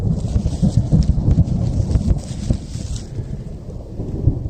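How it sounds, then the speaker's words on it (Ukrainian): Low, rolling thunder rumbles under steady rain hiss in a forest, with wind in the background as a storm moves closer. "Дощик наближається."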